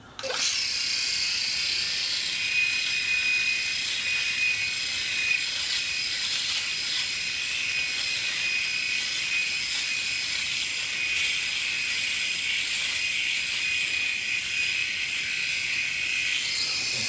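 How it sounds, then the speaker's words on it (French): Philips S9000 Prestige electric shaver running across a beard, a steady close, loud high-pitched buzz with a scratchy texture that holds without a break throughout. "je vais utiliser le S9000 pour la première fois devant vous et je vais me raser un côté de la face"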